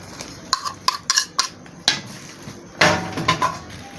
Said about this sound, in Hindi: इसको अच्छी तरह मिक्स करना है